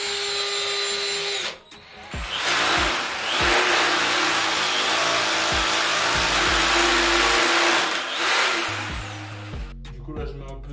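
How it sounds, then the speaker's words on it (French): An electric drill bores a 6 mm hole to mount a shower screen, a loud steady whine running for several seconds with brief pauses and restarts. "On va percer en 6."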